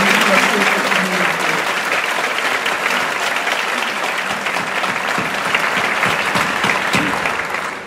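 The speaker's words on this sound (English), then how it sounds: "Let's give him and our Board of Education another round of applause for all of you." Sustained, dense applause from an audience at a 2017 opening meeting with a Board of Education, steady and loud throughout with no break.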